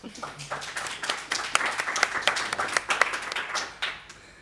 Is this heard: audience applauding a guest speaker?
yes